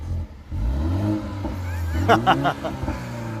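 Brand new 2019 BMW 330i G20 with the M Sport package revving nearby outdoors, engine note rising and falling smoothly, with people talking and background chatter over it.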